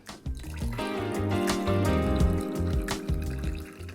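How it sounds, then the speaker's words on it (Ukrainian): Apple soda pours into a glass that already holds apple bourbon, making a close, steady liquid fill with bubbling that continues for several seconds. "наливаємо яблучний бурбон. Десь мілілітрів 60. І яблучна содова."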